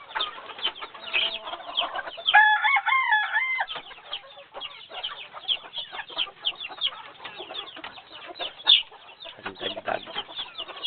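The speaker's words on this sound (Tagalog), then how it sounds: "malaking manok." A rooster crows loudly with a rising, wavering call, surrounded by a busy mix of chickens clucking and other fowl calling throughout.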